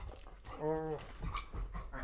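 A pet dog gives a short, high whimpering whine, close by, with a person talking around it.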